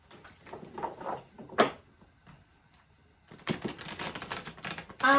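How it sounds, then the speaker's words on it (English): Tarot cards are riffled and shuffled in short crisp bursts, a quick flurry early, a pause, then a longer rustling shuffle near the end. "Well, I'm going to shuffle this deck a bit better,"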